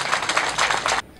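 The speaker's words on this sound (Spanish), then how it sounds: "para quien pido un caluroso aplauso a todas" Warm applause for a woman mayor at a women's day gathering in Catamayo, a dense burst of many hands clapping at close range that cuts off abruptly after about a second.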